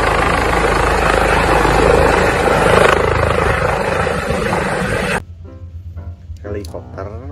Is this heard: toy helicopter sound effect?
yes